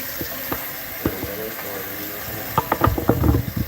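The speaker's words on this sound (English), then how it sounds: "I'm just going to get just enough water in it to boil." Tap water runs into a cooking pot for boiling, starting with a few scattered splashes and drips and then building into a louder, bubbling fill near the end.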